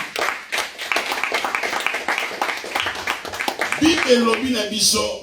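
A church congregation claps for Jesus in a steady rhythmic beat, loud and close, with a preacher's voice talking over the clapping.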